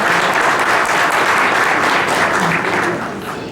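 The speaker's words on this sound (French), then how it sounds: "On peut vous donner une ronde d'applaudissements" Applause from a crowd at a college graduation ceremony, a loud, dense, continuous roar of clapping that eases slightly toward the end.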